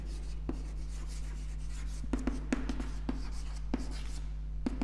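Soft scratching of handwriting on a board during a history lecture, faint intermittent strokes and taps over a steady low electrical hum.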